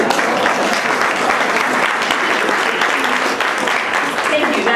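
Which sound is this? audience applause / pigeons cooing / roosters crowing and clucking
audience applause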